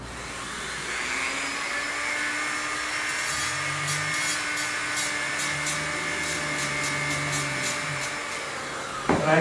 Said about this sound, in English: So I just take the grinder, grinding on it